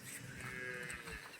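A black-and-white patched HF cross cow lets out one low, drawn-out moo, close and steady with no talk.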